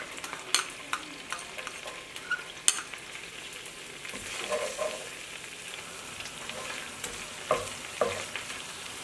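Garlic frying with chicken in a pan for garlic butter chicken, giving a soft, steady sizzle broken by occasional clinks and scrapes of stirring, with no voices.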